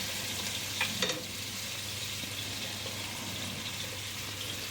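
Onions fry in oil left over from browning chicken pieces for a roast, a steady dense sizzle with a couple of stirring clatters early on.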